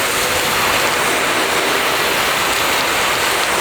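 Water runs steadily off the waxed clear coat paint of a car, a continuous broadband wash close by, hissing like rain, with no voices over it.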